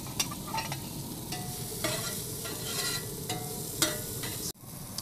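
Onions sizzle loudly in a very hot pan with chorizo, a dense continuous frying hiss broken by stirring scrapes, cutting off abruptly near the end.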